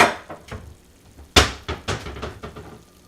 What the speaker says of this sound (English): I should toast it. Just grab another pot.